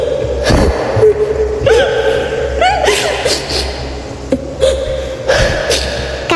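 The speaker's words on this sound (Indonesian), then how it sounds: "dari ujung lorong terdengar suara perempuan menangis" A woman cries in a horror drama, her sobbing drifting from the far end of a corridor in an old school building. It comes in wavering, high, broken bursts over a steady low hum.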